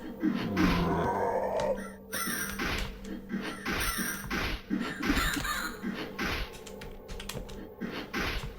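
Crow cawing in the House of Necrosis game demo, harsh calls near the beginning mixed with game sounds, rapid clicking keyboard taps and grunting effects continuing throughout.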